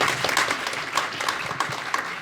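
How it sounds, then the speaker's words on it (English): An audience at a talk on rural Oregon climate politics claps for the speakers, a dense, steady round of applause close by with no voices over it. "Can we give one last round of applause for our speakers?"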